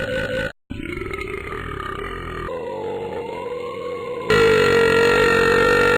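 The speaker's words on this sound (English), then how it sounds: "You and Fiona compete to see who can belch the longest" Cartoon belching contest from the DreamWorks Shrek Flash game Battle of the Belch, with long, loud, croaking burps that run almost continuously, broken by one brief gap and ending in an even louder sustained belch.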